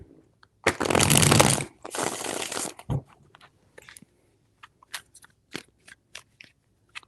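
Tarot cards being shuffled up close: two long riffling bursts, then a string of quick, light taps and flicks as the deck is squared and handled.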